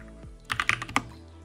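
A short burst of about half a dozen keystrokes on a Mac keyboard, close and crisp, tapped quickly in a quiet room while a terminal command is entered.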